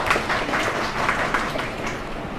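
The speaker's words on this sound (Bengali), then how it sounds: "আমরা এই গল্পকারের জন্য একটা হাততালি কামনা করি।" An audience applauds a storyteller at a Bengali poetry, song and spoken-word gathering, with a steady, continuous wash of clapping that holds at even loudness for the whole stretch.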